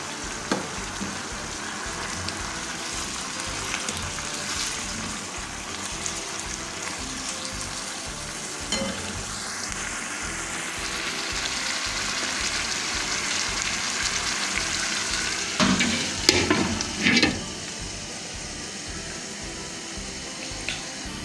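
Chicken tikka karahi pieces fry in hot oil in a wok-style karahi, giving a continuous loud hissing sizzle with a few louder bursts of spattering near the end.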